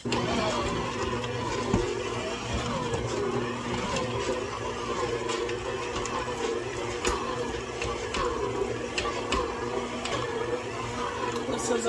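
A stand mixer kneads enriched Easter bread dough with butter, giving a steady mid-pitched motor hum with a rhythmic churning thump throughout, close and continuous.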